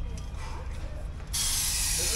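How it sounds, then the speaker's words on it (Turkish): An aerosol can sprays during routine maintenance of a Mercedes Sprinter van: a sudden loud, steady hiss that starts partway through after a quieter workshop background. "Birazcık da sprey sıkalım."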